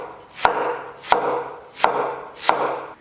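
A knife slices peeled Chinese iron-stick yam on a cutting board, four crisp, evenly spaced chops sounding close and clear with no talking.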